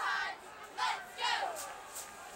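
A crowd in a college football stadium at a Ball State Cardinals vs. Central Michigan Chippewas game roars from a distance in swelling waves of cheering and shouting, fairly faint.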